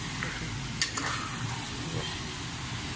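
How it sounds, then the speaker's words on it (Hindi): Minced meat (qeema) frying in a pan gives a steady close sizzle with light stirring scrapes and one sharp clink near the start, and no voices. "भून रहा है ना, अभी इसको थोड़ा तेज़ कर देते हैं चूल्हा, अच्छी तरह भून जाए"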